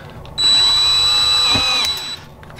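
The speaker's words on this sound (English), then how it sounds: "compliments of my lovely drill" A power drill whines loud and close for nearly two seconds, steady and high-pitched, while working on a Nerf blaster's spring mechanism, then cuts off abruptly.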